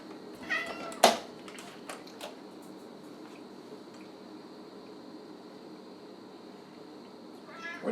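A cat whines for food in a kitchen during venison sausage making, giving a couple of close, plaintive meows early on and another at the end, separated by a long stretch of faint room noise and light handling sounds.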